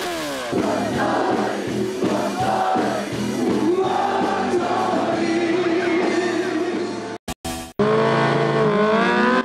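Drag race vehicles roar past at a motorbike meet's acceleration race held on a road, loud engines revving and climbing in pitch, with a brief cut in the sound before another machine screams by up close.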